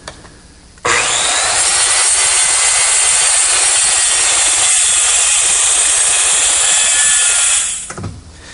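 A power saw trims the end of a glued wooden butcher block straight and square, starting abruptly with a loud, sustained high-pitched cutting scream for nearly seven seconds before spinning down.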